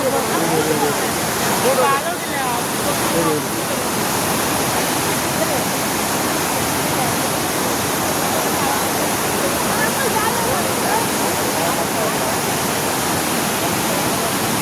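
Loud, constant roar of rushing water from a waterfall, a dense steady wash of noise close by.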